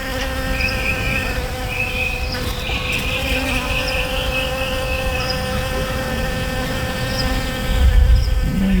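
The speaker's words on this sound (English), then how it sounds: "Can you hear the bee buzzing?" Bee buzzing close by, a continuous steady drone with layered whining tones that persist throughout without a break, loud and alone.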